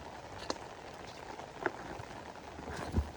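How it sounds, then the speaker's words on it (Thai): Light rain falls steadily over an old farm field near a pond, a soft, faint patter throughout, broken by a few louder drips or taps. "ฝนยังตกเลย"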